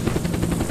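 A helicopter in the video game Unturned gives off a loud, close, dense rotor roar with a rapid rhythmic chop throughout this brief moment.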